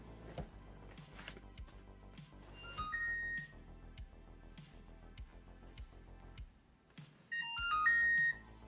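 A phone triggered by a find-my-phone feature plays a melodic ringtone of bright electronic chimes in short bursts against faint background sounds, with a louder burst near the end.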